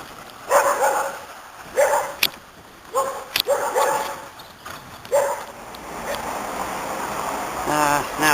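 A dog barks in a series of sharp, separate bursts outdoors in the town of Llanrwst, with some talking mixed in.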